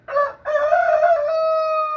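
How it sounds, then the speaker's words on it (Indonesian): A rooster crowing at an abandoned village in Majalengka, one loud, near cock-a-doodle-doo with a short break before a long drawn-out final note, heard alone. "Tuh, masih ada suara ayam."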